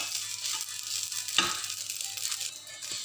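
Filipino garlic fried rice (sinangag) fries in a pan, a steady close sizzle broken by one brief scrape of stirring, with no talking.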